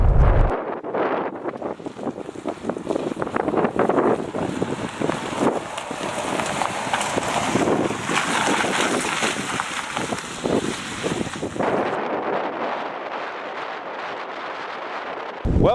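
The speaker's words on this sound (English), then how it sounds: "It's really windy up here." Strong wind at a barren hilltop wind farm roars and buffets the microphone continuously, loud and close, with no speech.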